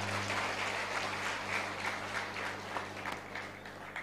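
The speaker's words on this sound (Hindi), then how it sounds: "अब एक बार जोरदार इनके लिए तालियां बजा दें।" An audience applauding Lakshmi Didi at a spiritual gathering, dense steady clapping from a sizable crowd, continuous and fairly even throughout.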